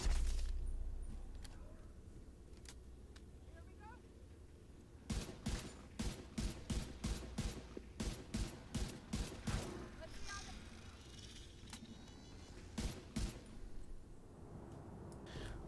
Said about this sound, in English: we're gonna have a little bit of gameplay for the LMG here right after we get through this